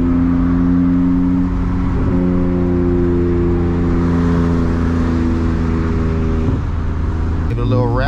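Manual BMW E36 328i engine with a steady low drone held at moderate revs, light throttle climbing to about 2,000 rpm, with a brief shift in pitch midway and near the end; a voice talks over it.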